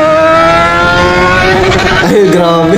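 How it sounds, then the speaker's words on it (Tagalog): A motorcycle engine revs hard and loud while the rider banks and weaves through traffic, a steady roar that dips and then climbs in pitch near the end. "Ang lakas ng motor niya."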